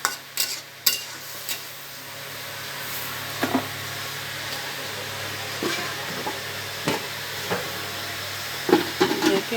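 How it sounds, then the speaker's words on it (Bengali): Taro (kochu) sautéed in a pan, with soft stirring scrapes, light sizzling and a few sharp utensil clinks against the pan, all close and fairly quiet, with no talking. "এবার ভালো করে কচুটা কষিয়ে নিই।"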